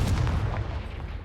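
A Confringo fire spell bursts in Hogwarts Legacy as a single heavy, deep boom that rumbles and fades over about a second.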